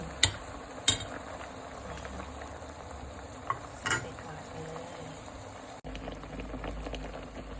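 Peeled bananas simmer in boiling sugar syrup for Thai candied bananas, a quiet, steady bubbling with a few sharp clicks from the pot.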